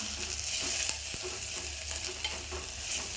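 Okra and onion sauté in oil with a soft, constant sizzle and a couple of light taps of stirring. It is fairly quiet, and no one speaks over it.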